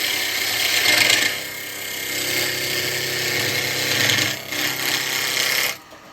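A bowl gouge cutting a spinning wood piece on a lathe, giving a steady loud rasping, scraping hiss that swells and eases across several passes before stopping abruptly.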